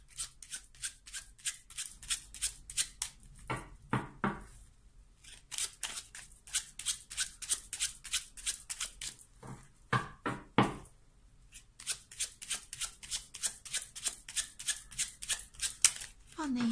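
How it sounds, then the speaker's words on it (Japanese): Lenormand cards being shuffled by hand, a rapid run of crisp papery riffles and slaps in repeated bursts with brief pauses, close and fairly quiet, with no talking over them. "今ね、ルノルマンカードシャッフル中です。"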